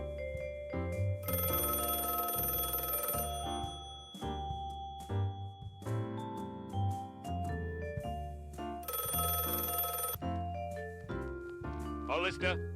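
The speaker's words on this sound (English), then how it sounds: "The phone kept shouting its accurate tone." A telephone bell ringing in two loud, sustained bursts separated by a pause, set against a dense musical background.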